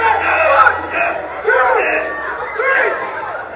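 A wrestling crowd at an HBCW match jeers and shouts its disapproval, a loud continuous mass of voices with rising swells of booing and yelling throughout.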